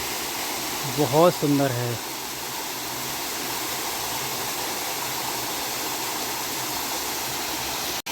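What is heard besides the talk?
waterfall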